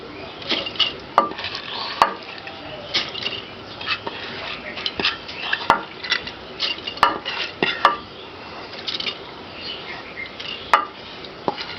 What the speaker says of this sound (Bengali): আমি এর মধ্যে মুসুর ডালগুলো দিয়ে দিচ্ছি